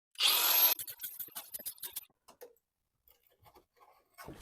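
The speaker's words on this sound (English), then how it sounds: "All right, angle grinder time." Angle grinder cutting into the metal fender of a Sprinter van, a loud harsh burst of grinding in the first second, then scattered clanks and handling noises with a final short burst at the end.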